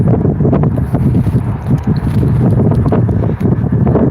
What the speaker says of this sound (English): You can hear that wind buffeting away.